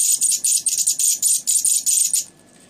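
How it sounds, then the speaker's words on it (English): A ZVS-driven high-voltage transformer arc fed from a variac gives a loud, rapid, bursty high-pitched buzzing crackle that pulses in short repeated bursts, then cuts off abruptly, leaving only a faint hiss. "You can hear it pulling some current on the variac when I pull the arc out."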